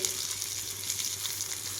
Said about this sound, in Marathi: गॅसवरती मी इथं लोखंडी तवा ठेवलेला आहे आणि आता ह्या तव्यामध्ये हे मासे टाकून घेते।